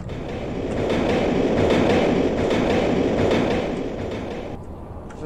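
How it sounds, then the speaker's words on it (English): A train rolls into a London Underground station in the video game Tomb Raider 3, a loud, steady rumble and clatter that swells and then eases off over several seconds, with no talk. "That was cool about the train coming."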